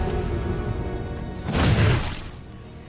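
Incendio fire spell cast in Hogwarts Legacy on the Switch: a short burst of whooshing flame with a low crashing impact about midway, rising suddenly and fading within a second.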